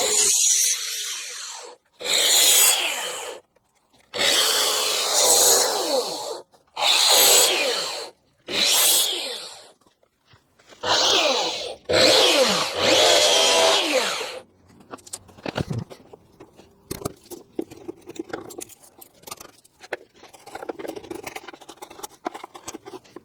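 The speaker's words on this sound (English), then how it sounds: "we're going to use the track saw, and we're just going to take lots of little bits out of it" A track saw nibbling many small shallow cuts about 5mm deep into a wood cabinet, loud repeated whining bursts of a few seconds each with short gaps, followed by quieter scraping and tapping.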